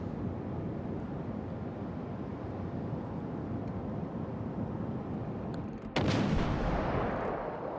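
Warship cannon fire in the naval combat game World of Warships: Legends: a steady low roar of sea and wind, then one heavy boom that bursts out and keeps rumbling to the end.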